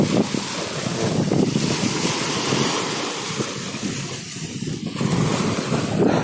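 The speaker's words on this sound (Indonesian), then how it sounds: "Ini lagi air pasangnya. Jadi ini ya, jadi ombaknya lumayan besar di sini ya." Ocean waves at high tide on Eretan beach in Indramayu, fairly large surf, roar steadily and close with wind buffeting the microphone, and no voices.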